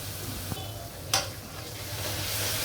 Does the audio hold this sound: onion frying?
yes